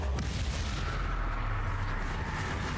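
Confringo fire spell blasts in the video game Hogwarts Legacy, a continuous loud rumbling barrage of booming explosions with dense low-end roar filling the whole stretch and no break between impacts.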